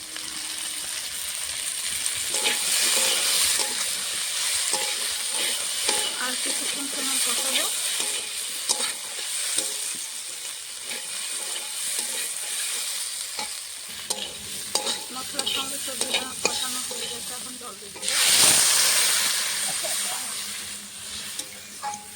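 Spice paste with vegetables fries and is stirred in mustard oil for a Bengali fish curry, a loud continuous sizzle with scraping stirs, swelling into a sharper hiss near the end.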